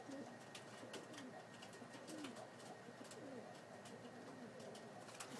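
Pigeons at a coop at dusk coo repeatedly, the soft calls close by and steady, with occasional wing flaps and faint chirps over a low background hum.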